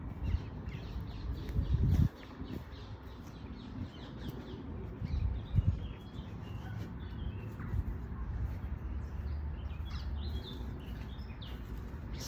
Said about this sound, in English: It's lovely hearing the birds.